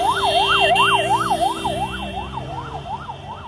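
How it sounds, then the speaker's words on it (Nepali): An ambulance siren wails in a fast, rising-and-falling cycle, loud and close, during street unrest in Kathmandu, with no talk over it. "एम्बुलेन्स यहाँनिर गइरहेको छ"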